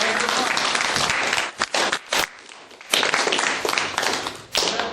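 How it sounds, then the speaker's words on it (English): A classroom audience of cadets claps for a speaker in uneven bursts, with brief gaps and some voices mixed in. "All right, round of applause."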